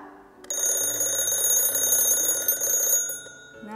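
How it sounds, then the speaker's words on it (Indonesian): A mechanical alarm clock rings loudly and steadily for about two and a half seconds with a bright, sustained metallic ring, then cuts off abruptly. "Rupanya ini adalah jam waker"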